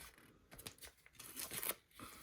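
Paper edges being shredded and torn by hand for a craft project, giving an aged look; irregular close ripping and crinkling bursts, fairly soft, with no voices.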